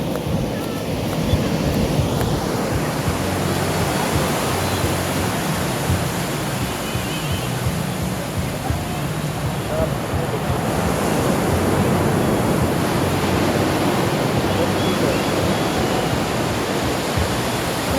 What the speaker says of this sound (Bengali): ওই দেখো কত